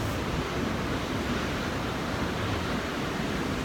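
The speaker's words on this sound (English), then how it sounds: "with the sound of the ocean is very powerful" Ocean surf rushes in a steady, broad wash of noise, loud and continuous without distinct breaks, with no voices present.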